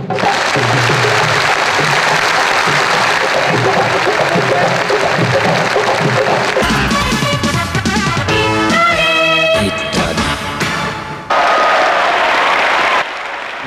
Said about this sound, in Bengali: এদের সবার জন্য তালে তালে তালি।